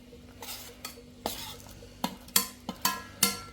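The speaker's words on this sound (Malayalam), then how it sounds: "പഴവും കൂടി ഇട്ട് നമുക്ക് നന്നായിട്ട് ഇതിലിട്ടൊന്ന് ഇളക്കാം." A spoon scrapes and knocks against a pot as rice payasam with banana is stirred, giving about eight sharp, irregular clanks over a soft background sizzle, close and fairly loud.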